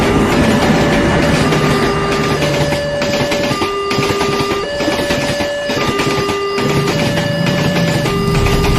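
A railway crossing bell clangs in alternating two-tone pulses while a train rumbles and clatters past close by, loud and continuous throughout.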